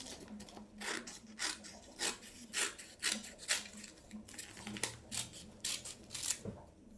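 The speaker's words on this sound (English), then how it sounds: "I'm also going to cut some short, thin strips." Scissors cutting paper into thin strips, a steady series of crisp snips and paper rustles repeating every half second or so, close by and soft.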